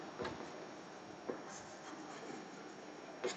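Pen or marker writing factors by hand, quiet soft scratching strokes with a few sharper taps, close and faint, no talk over it.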